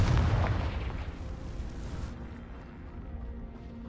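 Confringo blasting curse exploding in the Hogwarts Legacy video game: one loud, deep boom bursts at the start, then rumbles and fades over a few seconds.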